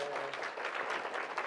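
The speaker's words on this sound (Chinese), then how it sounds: "那我们再次用掌声欢迎，谢谢我们今天的 Milo 分享" Conference audience at PyCon TW 2023 applauding a speaker, a brief, fairly quiet burst of many hands clapping steadily throughout.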